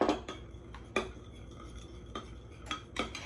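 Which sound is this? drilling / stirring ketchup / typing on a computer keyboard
stirring ketchup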